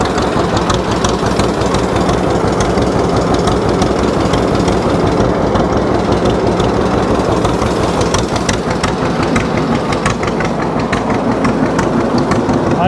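A straight-piped 1948 John Deere D tractor engine idles down, its loud, continuous pulsing two-cylinder chug steady and close throughout with no talk over it.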